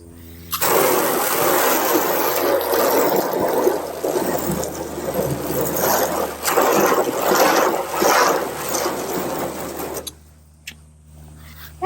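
Water spray rinses a ceramic-coated car, a loud, close, steady rushing hiss that varies slightly in force for about ten seconds and then cuts off, leaving a quiet background.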